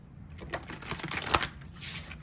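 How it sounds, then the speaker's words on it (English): Stiff cardstock tarot cards are side shuffled in a quick run of soft, papery slaps and flicks, close and fairly quiet, with no talking. "I just like side shuffle it."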